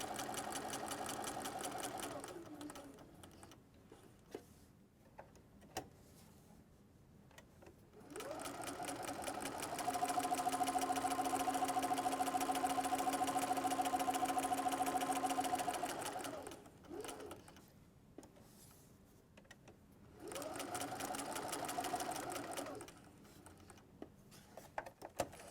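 A sewing machine stitches fabric for a small pincushion in three steady bursts of whirring with short pauses between, close and loud, with no talking.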